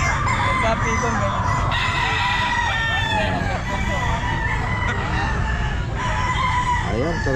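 Several roosters crow over and over, loud and overlapping, at a crowded outdoor pet market, with steady crowd noise and talking underneath.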